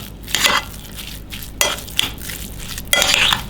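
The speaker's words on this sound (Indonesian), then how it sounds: "Bawang putih sudah dihaluskan. Dan aduk lagi sampai tercampur rata." Mashed garlic being stirred into a mixture in a pan, with repeated scraping strokes of a utensil against the pan and a soft frying sizzle underneath, close and fairly loud.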